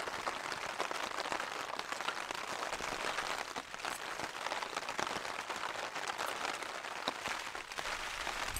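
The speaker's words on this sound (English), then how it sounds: "wind's blowing, rain's falling," Steady broadband hiss of rain pouring down with gusting wind on a winter mountain during a storm, constant and fairly loud throughout, no voices.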